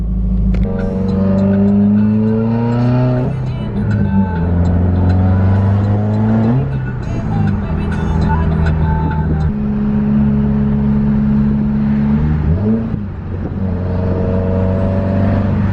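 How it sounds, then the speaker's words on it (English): A Subaru WRX with a Stage 2 tune and J-pipe revs hard and loud up close, engine pitch climbing through repeated pulls with a whirring turbo spool rising above the exhaust note, then dropping between shifts. "You can hear the turbo spool a lot more now with the J-pipe"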